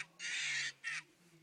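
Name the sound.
Angry Birds plush toy playing its bird sound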